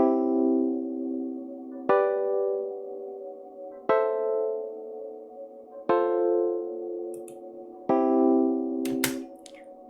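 A plucked chord rings out and decays, followed by three more chords at steady two-second intervals in a one-five-six-four progression, each sustained and fading, with a light noise near the end.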